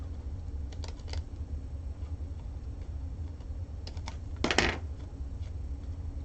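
Scissors snip through paper feathers being trimmed for a 3D swan craft: a few soft, sparse clicks and one brighter cluster of cuts over a steady low hum.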